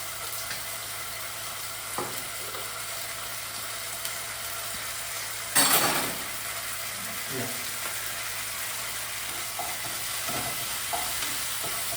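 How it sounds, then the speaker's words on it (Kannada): Masala paste frying in a pan for egg rice gives a steady, close crackle and hiss, with a brief scrape or stir bump midway and no speech. "ಪಟ್ರ ಪಟ್ರ ಅನ್ನೋತ್ತೀಗ ಸ್ವಲ್ಪ ಹುರ್ಕೊಳ್ಳಿ"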